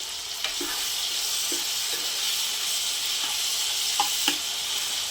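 A pan of ingredients for nalleru chutney, with tamarind among them, fries in a steady hissing sizzle. Light clicks and taps from stirring come through at intervals; no one speaks.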